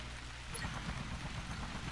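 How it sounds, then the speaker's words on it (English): Rain falls in the video game Field Commander as a soft, steady, even patter that stays faint throughout, with no talk. "It's raining again"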